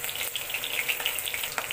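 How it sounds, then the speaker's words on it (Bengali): Silver carp, rubbed with salt and turmeric, fries in a pan after being flipped, giving a steady close crackling sizzle with small spitting pops throughout. "এক পাশে আমার হয়ে গেছে, আর এক পাশটা ভাজতে বাকি আছে।"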